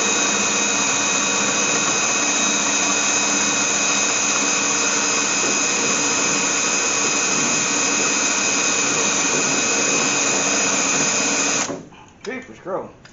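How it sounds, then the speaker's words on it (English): A power drill bores into a classic AMC Gremlin during an electric Holley fuel pump install, a loud, steady, high whine running nonstop for about eleven seconds before cutting off, followed by a few short clunks. "See if I can get my drill in here."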